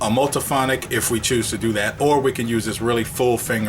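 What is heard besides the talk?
No distinct noise like a dog, phone or traffic.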